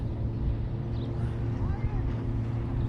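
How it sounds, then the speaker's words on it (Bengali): A speedboat races at high speed on the sea off Dubai, its engine a steady, loud, low drone that holds for the whole stretch with broadband water and wind rush over it. "এই দেখেন, দেখেন এরা কিভাবে স্পিড বোট চালাচ্ছে, অনেক স্পিডে"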